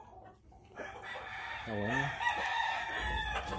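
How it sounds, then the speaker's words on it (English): A Clement rooster at an Oklahoma game farm gives one rising crow in the middle, with other birds and brief talk around it. "Clement roosters."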